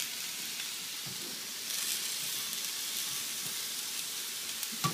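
Fish pan-frying before being flipped, a steady even sizzle close by that swells slightly louder partway through and carries on alone without talk.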